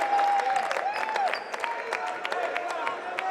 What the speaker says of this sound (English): Ascani comes in. Gets a huge cheer